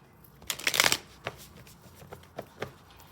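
A tarot deck being shuffled close up: a dense riffle of cards in the first second, followed by a few lighter, separate card taps and slides, quiet and without speech.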